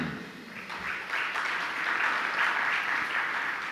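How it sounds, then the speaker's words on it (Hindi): A seated audience at a Jain religious discourse claps steadily and densely for several seconds, a continuous rattling wash of hands with no voice heard over it. "तालियां तो बजा रहे हो"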